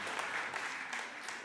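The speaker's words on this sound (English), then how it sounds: "please show your appreciation by the round of applause to all the teachers in the room" Teachers receive a round of applause at a school lunch program: a brief, fairly faint wash of clapping from a room full of people.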